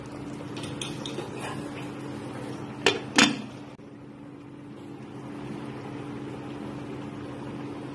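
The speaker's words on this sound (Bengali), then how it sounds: "দিয়ে এবার গ্যাসটা বন্ধ করে একটু ঢাকা দিয়ে রাখছি।" A lid placed on a pot of chicken stew after the gas is turned off, two quick metallic clanks close together, followed by a steady low kitchen hum and no talk.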